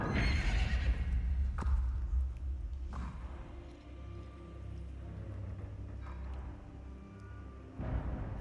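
A horse in the video game Star Stable Online whinnies loudly at the start, then its hooves clop along at a castle drawbridge over low rumbling background sound, with no talk.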